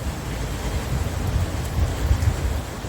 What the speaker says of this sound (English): it's raining where I'm at